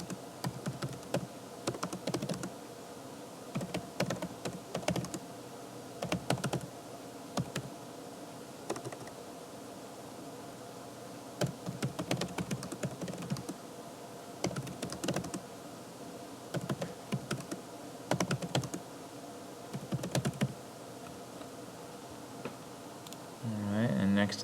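Typing on a computer keyboard while filling in a spreadsheet, with steady clusters of light key clicks coming in bursts and pauses, close by, alongside faint background hum.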